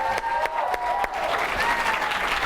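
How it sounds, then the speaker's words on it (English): An audience at a company training seminar breaks into loud, dense applause, many hands clapping together in a steady roar that swells and continues through, with a few sharp individual claps standing out near the start. "give yourselves a round of applause"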